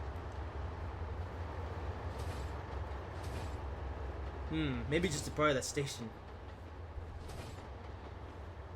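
A slow-moving Deltic diesel locomotive hauling Mach 1 coaches in Trainz Simulator 2, steady low diesel rumble and rail noise throughout, with someone talking over it midway.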